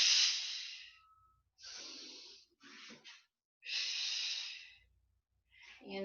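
Slow, audible exhales during a standing Pilates twist done with weights, several long breathy hisses separated by brief pauses, close and fairly loud with no talking.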